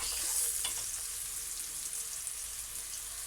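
Onion sautés in oil for an Egyptian moussaka made without meat, a dense, even hiss of frying that holds steady and close throughout with no voices.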